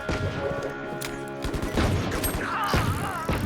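VALORANT gunfire rattles in quick bursts and scattered single shots, mid-loud, mixed with game effects and brief chatter.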